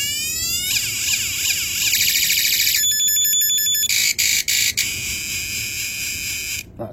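An electronic sound-effects module switched between its sixteen settings emits loud, continuous alarm-like tones: rising sweeps and warbles at first, then steady pulsing beeps with a few brief cutouts, and no talking.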